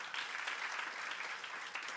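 Applause from an audience at a student government induction ceremony, a brief, even patter of many hands clapping at moderate distance, steady for about two seconds.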